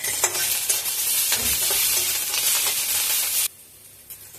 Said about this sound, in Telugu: ముందుగా మనం ఆయిల్ వేసుకొని ఉల్లిపాయలు యాడ్ చేసుకోవాలి